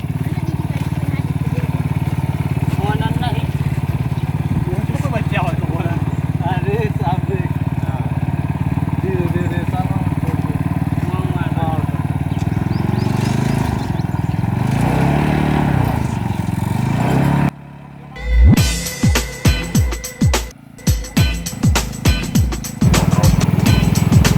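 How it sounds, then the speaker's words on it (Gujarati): A monster bike engine rumbles steadily at a water park, a loud, constant drone that shifts in pitch midway, then cuts to choppy revving bursts and clatter near the end. "આપણે આવ્યા છીએ મોન્સ્ટર બાઇકનો ચક્કર મારવા માટે"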